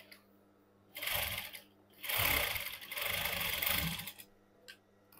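Sewing machine stitching fabric for a cigarette pant, running in three bursts of steady mechanical whirring separated by short pauses, close and clear with no talk.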